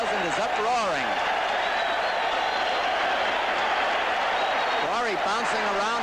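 A boxing crowd of about 17,000 roars through a Quarry vs Lyle fight, a loud, steady wash of cheering that fills the whole stretch, with a commentator's voice rising over it near the start and end.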